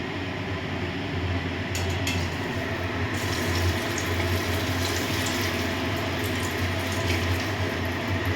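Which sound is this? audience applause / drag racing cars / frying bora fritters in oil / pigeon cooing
frying bora fritters in oil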